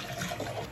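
Drinking water pours from a tap or dispenser, a brief steady splashing stream, close and alone.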